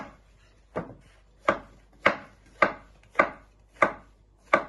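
Knife chopping mushrooms into little pieces on a cutting board, eight sharp, evenly spaced chops in a steady rhythm, close and clear with no talking.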